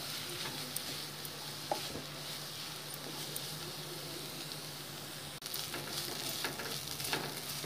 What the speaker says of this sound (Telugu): 2 మినిట్స్ ఈ మసాలా ఈ చికెన్ అంతా కలిసిపోయే వరకు ఫ్రై చేసుకోవాలి